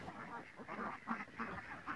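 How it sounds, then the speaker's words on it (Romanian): Ducks quacking at home on a Romanian smallholding, several birds calling in short repeated bursts at close range, with no talk over them. "Vă arăt rațele."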